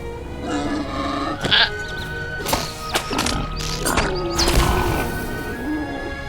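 Horse in the online game Lord of the Rings Online, with bleating whinnies and hoof clatter over a busy music and effects bed, several bursts spread across the clip.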